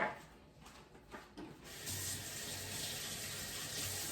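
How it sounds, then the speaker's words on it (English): Water runs steadily from a sink tap as hands are washed in a home kitchen, a continuous close hiss that starts after a couple of seconds of quieter handling and holds to the end. "I'm going to wash my hands"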